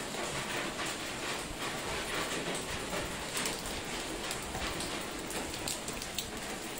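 Steady rain falling in Jiufen, Taiwan, a dense continuous hiss of drops pattering on surfaces nearby, with occasional sharper drips and no pauses.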